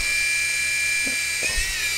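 The motor of a HELO TC Assault remote-control helicopter whines at high pitch, a loud, steady electric buzz held close by throughout with faint bumps of handling underneath.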